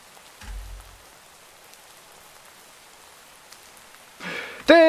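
Light, steady rain in the video game Minecraft hisses faintly throughout, with a brief low thump early on and a louder burst of game sound at the end.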